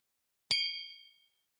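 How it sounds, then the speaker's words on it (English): Glasses of Last Feather Rye whiskey from Journeyman Distillery touch once in a toast, giving a single clear, close ring that fades over about a second in silence. "I'm filling up my glass with Last Feather Rye whiskey from Journeyman Distillery. Cheers, y'all."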